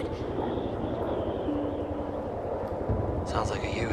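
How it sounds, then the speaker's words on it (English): A steady, loud rotor drone fills the clip with a rhythmic low thumping, as a Huey helicopter passes nearby and voices speak faintly underneath. "Sounds like a Huey."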